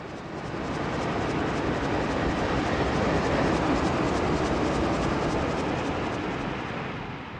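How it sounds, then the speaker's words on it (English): Steady, loud 1953 Alco RS3 diesel locomotive rumble passing nearby, a broad continuous roar that swells and holds without pause. "The power today on this train is an Alco Model RS3 built in 1953."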